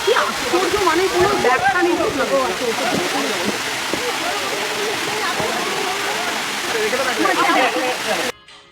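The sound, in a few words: Midubanta waterfall flowing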